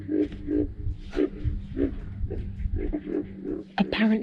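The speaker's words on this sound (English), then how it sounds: "Apparently during mating season they're very vocal." Several alligators call during mating season from a Florida swamp, low rumbling grunts repeating in bursts around the listener, fairly close and loud, with a sharper sound near the end.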